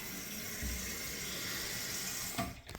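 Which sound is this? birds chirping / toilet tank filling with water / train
toilet tank filling with water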